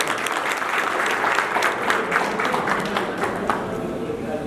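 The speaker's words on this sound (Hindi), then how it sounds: "तो मेरी ख्याल तालियां बनती है इस बात पर।" Audience at a college alumni meet breaks into sustained, dense applause, many hands clapping steadily and loudly throughout.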